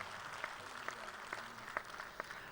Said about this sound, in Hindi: बहुत सारी तालियों में एनर्जी रहनी चाहिए जी,